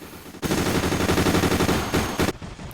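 A Ming titan mech fires its machine guns in a video game: rapid, loud, continuous automatic fire with a brief break near the end before a final short burst.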